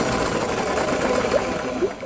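A Briggs and Stratton engine on a GMC lawnmower with no spark whirs and chugs steadily while being cranked, loud and close, without catching.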